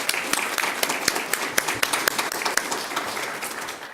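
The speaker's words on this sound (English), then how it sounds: "If we can give them just one more round of applause for that." An audience at a school district governing board meeting claps for the Liberty High School Chamber Choir, a steady patter of many hands at moderate volume with no voices over it.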